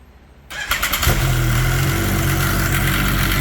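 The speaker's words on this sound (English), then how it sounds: "just so you guys can listen to how loud this clutch is" A Polaris RZR UTV engine fitted with a race clutch cranks and catches, then settles into a loud, steady idle with a harsh mechanical clutch rattle layered over the running motor.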